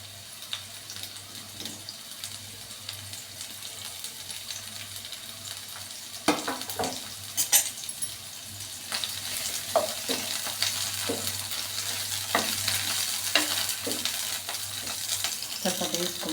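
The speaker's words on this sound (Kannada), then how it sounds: "ಅದಕ್ಕೆ ಈರುಳ್ಳಿ ಹಾಕ್ತಾ ಇದ್ದೀನಿ ನಾನು. ಹಸಿಮೆಣಸಿನ್ಕಾಯಿ ಕೂಡ ಅದ್ರ ಜೊತೆಗೆ ಹಾಕ್ತಾ ಇದ್ದೀನಿ." Onion and green chilli fry in a pan for tomato chutney: a steady low sizzle, then louder stirring scrapes and crackles from midway, with running water briefly audible in the background.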